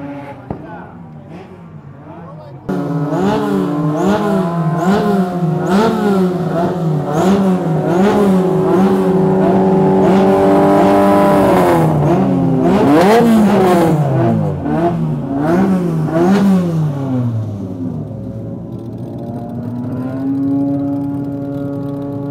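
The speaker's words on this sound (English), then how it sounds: "For some reason there's also some rotaries out on track today." Rotary-engine race cars buzz and whine past on track at Tsukuba Circuit in rising and falling revs, loud and close, with someone speaking over the noise.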